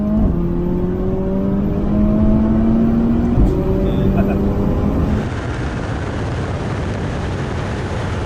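A McLaren 720S supercar accelerates on a racetrack, its engine rising in pitch through gear changes, then fading into a broad rushing roar.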